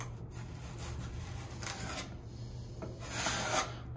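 A drywall knife scrapes and rasps as joint compound is feathered out over a high spot on a wall, with repeated rough strokes building in bursts, close and fairly loud, no talking.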